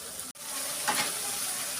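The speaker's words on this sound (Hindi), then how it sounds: "तो हम दही के साथ इसकी भुनाई करेंगे।" Chicken frying with yogurt in a pan for green chili chicken, giving a steady close sizzle with a brief dropout near the start and a short swell of stirring.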